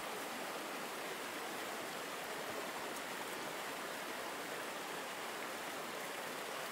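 Garden waterfall spilling into a flowing stream, a steady broadband rush of water that holds constant and fairly soft from start to finish, with no voices over it.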